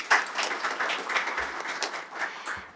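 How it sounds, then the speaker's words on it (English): A crowd claps for the chief guests at a university opening ceremony: a short burst of dense, fairly loud applause that carries steadily for a few seconds and then begins to thin out. "a huge round of applause for both our chief guests"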